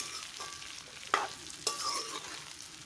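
Jujubes fry over a medium flame in a pan, sizzling steadily while a utensil stirs them in a few sharp scraping strokes, with no voices.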